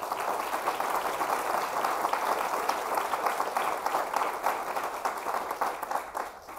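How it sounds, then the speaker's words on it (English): A crowd at a groundbreaking ceremony for the Bowling Green Veterans Center applauds federal officials, a dense, steady wash of clapping that holds for several seconds before thinning out at the end. "Can we give them a big round of applause?"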